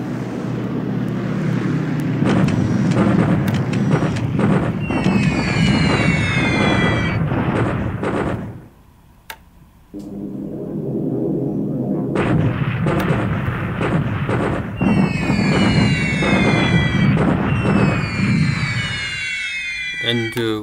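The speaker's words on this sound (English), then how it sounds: "And now we have this ongoing small bombardment." Small ongoing bombardment in the War in the Pacific strategy game, a dense continuous rumble of artillery fire and blasts with whistling high tones layered over it, briefly dropping away mid-clip before resuming loud.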